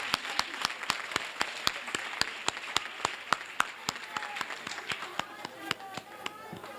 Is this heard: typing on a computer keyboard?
no